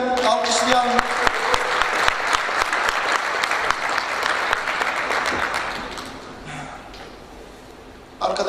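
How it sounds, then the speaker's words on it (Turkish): An audience applauds a presenter at a live-broadcast event. The clapping starts full and lively, thins and fades after about six seconds, and ends with a brief sharp sound. "bir alkış rica ediyorum"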